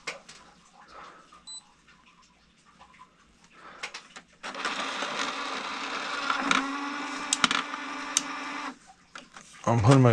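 An ink printer used for print-then-cut crafting runs a print job, starting with quiet clicks, then several seconds of loud whirring and mechanical feeding before stopping; a voice speaks near the start.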